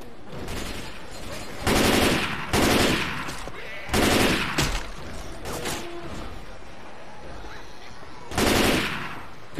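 Automatic gunfire in the zombie shooter Left 4 Dead 2, several loud bursts of rapid shots separated by short pauses, over a constant background of game ambience.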